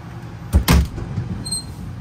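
An RV entry door opens and its powered step extends, producing a sharp clack and then a short mechanical whir-thud close by, with a faint hum afterward.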